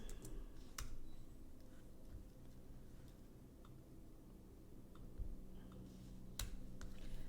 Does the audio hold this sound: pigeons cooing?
no